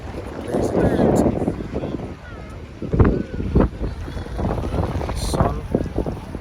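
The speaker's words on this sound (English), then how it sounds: "Probably can't hear me because the wind's blowing too loud." Loud, gusty wind buffets a microphone outdoors in blazing heat, rumbling and roaring in uneven surges with a speaking voice half-buried beneath it.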